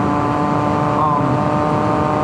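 A 2011 Triumph Daytona 675R fitted with a Werkes exhaust drones loudly and steadily while being ridden at speed, its engine note blended with rushing wind noise throughout.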